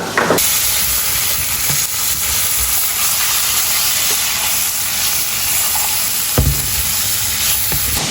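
Vegetables fry in a pan for a first homemade beef steak meal, a steady dense sizzle running throughout with a few brief clatters of stirring, close and loud with no talking.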